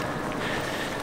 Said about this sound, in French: On a un petit peu de vent